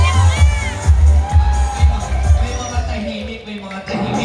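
An audience at a Queen of the Night party game claps and cheers loudly up close, with pulsing bursts of applause, whoops and shouting mixed into lively crowd babble throughout.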